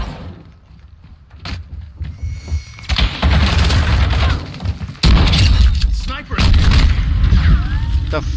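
A flash grenade goes off in a multiplayer team deathmatch game, a sudden loud boom followed by a second blast and harsh noisy rumbling, with voices talking amid the action.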